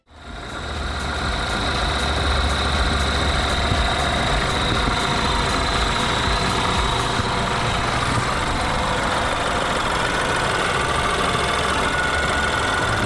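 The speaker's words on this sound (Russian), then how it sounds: "Двигатель работает отлично." A BMW 3 Series F30/F31 car engine idles steadily and loudly for the whole stretch, a constant low rumble with a faint high whine and no talking.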